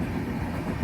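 A train runs along a railway track in rural South India, a short burst of low, continuous carriage rumble with a faint rhythmic clatter and no voices.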